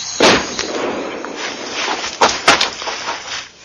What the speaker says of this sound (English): they first attempted to blast the Viet Cong out with grenades